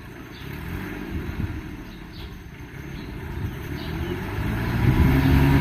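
A small Kubota B1600 compact tractor engine runs steadily on a road test drive, a constant mid-level drone that grows gradually louder and rougher toward the end, with no talking.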